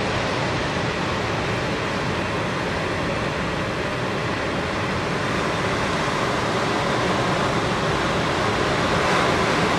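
Steady roar of ocean surf from a south swell at Malibu, waves breaking continuously as a dense wash of noise, loud and close, with some wind on the microphone and no talking.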